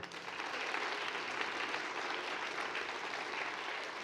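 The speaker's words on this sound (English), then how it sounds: "Another round of applause for them." Sustained applause from a lecture-hall audience at a university evening talk on race, a steady, even roar of many hands clapping with no talk over it.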